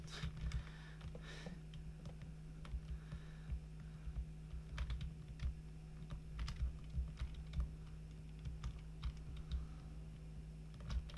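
Steady computer keyboard typing, with mouse clicks likely mixed in, during a Roblox Energy Assault match: rapid irregular clicky keystrokes throughout, fairly close and moderately quiet over a constant low hum, with no talking.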